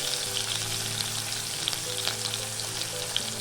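Cumin seeds, chopped green chili and chopped ginger sizzle steadily in hot oil for jeera aloo, a continuous close, even hiss with small crackling pops throughout and no talking.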